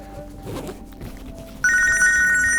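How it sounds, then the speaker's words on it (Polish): After a moment of quiet shuffling, a phone starts ringing loudly with a bright electronic trill that repeats without pause. "akurat głupi telefon"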